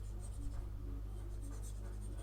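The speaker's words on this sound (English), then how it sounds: "let me just erase this" Soft, steady rubbing strokes of an eraser wiping writing off a board, close and quiet over a low background hum.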